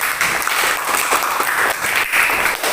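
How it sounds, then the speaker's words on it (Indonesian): Classroom students clap together in a busy, sustained burst of applause, bright and close, holding steady for a few seconds. "Oke, tepuk tangan buat semuanya."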